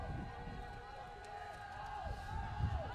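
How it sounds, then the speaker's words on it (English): Murmur of spectators at a women's college water polo match, a low, diffuse crowd noise that rises briefly near the end, heard beneath a commentator talking. "And a bit of noise coming from the crowd"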